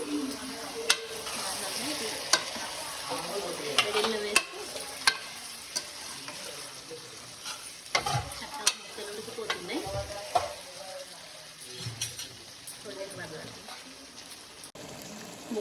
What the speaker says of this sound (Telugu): ఇప్పుడు కరివేపాకు వేసుకుంటున్నాను